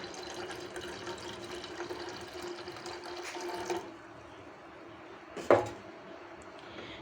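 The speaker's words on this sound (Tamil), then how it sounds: "தேங்காய் பால் கொஞ்சம் ஊற்றிக்கலாம்" Coconut milk pours into a cooking pot while making traditional unleavened Pesaha appam, a faint continuous liquid trickle that eases off midway, followed by a sharp clink of utensil on the pot.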